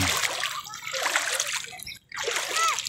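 Seawater splashing and sloshing close by at a beach at dawn, busy and continuous, with a brief pause before the splashing picks up again.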